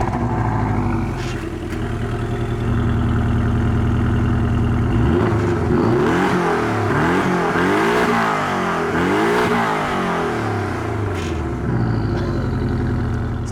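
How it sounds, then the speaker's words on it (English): A Porsche Cayman GTS flat-six fires up loud and close, settling into a throaty idle before several sharp revs rise and fall, then dropping back to idle. "let's first fire up the Porsche and hear how that sounds"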